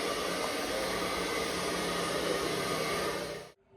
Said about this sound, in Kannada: ಈಗ ಬಂದು ಶೋಕಿಯಾಗಿ ಏರ್ ಡ್ರೈಯರ್ ಇಟ್ಕೊಂಡು ನಿಂತಿರೋದು